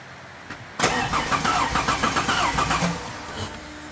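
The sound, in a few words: car engine cold starting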